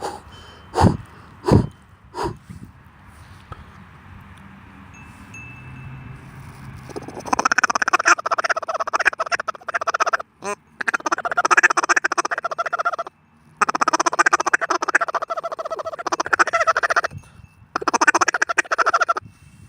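A few sharp clicks at first, then a duck call blown in rapid, chattering feeding-call bursts, loud and close, separated by brief pauses.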